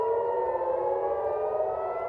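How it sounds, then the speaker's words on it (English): Civil defense air raid sirens sound across Tel Aviv during an Iranian missile attack, a steady, loud wailing tone that holds level without a break and with no voices. "In Israel, meanwhile, sirens are being heard across Tel Aviv."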